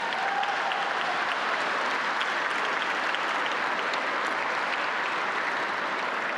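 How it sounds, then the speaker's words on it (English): A large audience applauds steadily and loudly for the young string ensemble Vibrant Strings at an awards celebration, a dense even wash of clapping that holds for several seconds. "Let's give them a very big round of applause"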